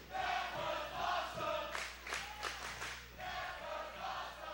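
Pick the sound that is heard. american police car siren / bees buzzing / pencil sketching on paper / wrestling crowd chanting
wrestling crowd chanting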